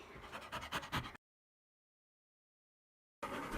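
A dog pants rapidly with a faint whimper, then the sound cuts out to complete silence for two seconds before the panting resumes.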